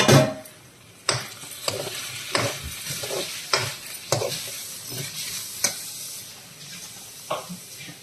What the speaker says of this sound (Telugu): కర్రీ ఒకసారి కలుపుకుందామండి